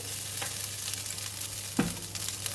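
Rice with egg and seasoning stir-frying in a wok for salted fish fried rice, a steady close sizzle with occasional spatula scrapes and one sharper clank near the end, no talking.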